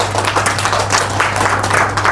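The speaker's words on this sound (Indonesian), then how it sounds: "Sukses untuk kalian semua, tepuk tangan dong." Audience applause at a motivational training session in Gresik, steady and fairly loud throughout, filling the room with dense clapping and no voices standing out.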